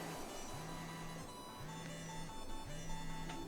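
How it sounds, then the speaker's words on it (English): A Paper Mario: The Thousand-Year Door mail ringtone chimes as a short repeating tone pattern, played three times at an even pace over a soft game background, with no talk. "Oh, mercy me. Sounds like some mail."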